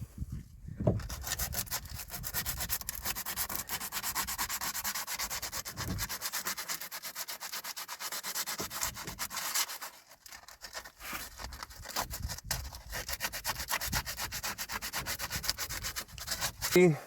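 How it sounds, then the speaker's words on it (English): Steady abrasive sanding of a bearing seat surface inside a heavily rusted engine casing, a continuous rasping scrub with brief pauses near the start, middle and around ten seconds, close and fairly loud with no talking. "Just to clean up the surface, make it smooth."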